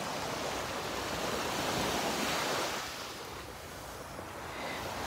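Ocean waves wash steadily onto a beach, a continuous broad hiss of surf that swells slightly and eases, with some wind buffeting the microphone and no voices.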